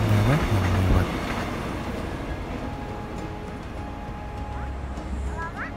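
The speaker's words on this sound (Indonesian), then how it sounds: "Kita lihat di depan sini, dan kereta api bandara yang lewat." An airport train passes in front of Sentolo station, making a steady, smooth rolling rumble with faint wheel noise and a high whine. A voice talks briefly at the start.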